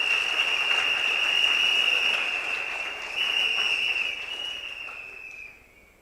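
Crowd in a packed hall at a political slate launch applauding, a sustained wash of clapping that swells, dips and fades out near the end, with a steady tonal hum running beneath it.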